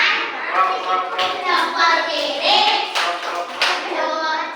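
Children in a class clap in quick rhythmic bursts of three, mixed with young voices chanting along, close and lively.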